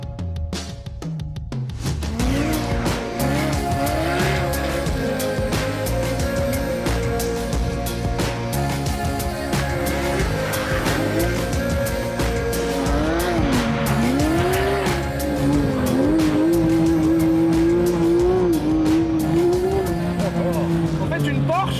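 Porsche and Alpine cars race and skid across a field, engines revving loud and close with long wavering tire squeals and sliding noise, while someone talks over the action.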